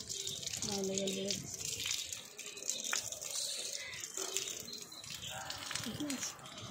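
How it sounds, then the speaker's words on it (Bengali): A water pump running with dirty, iron-laden water gushing from a long-unused direct line, a steady splashing flow throughout with a voice talking over it. "এখন পাম্প চালিয়েছি, কি ময়লা জল বেরোচ্ছে।"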